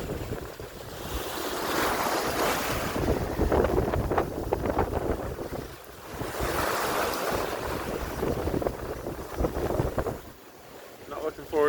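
Strong wind and breaking waves surround a sailboat at sea in stormy, gusty weather, a loud continuous roar with surging swells and heavy wind buffeting on the microphone throughout.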